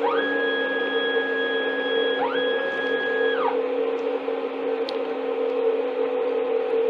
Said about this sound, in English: And we simply go to switch the machine on.